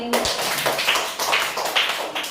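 Children clapping in a classroom during a Kannada alphabet action song, a quick run of sharp claps repeating in rough bursts, close by, with faint voices in the background.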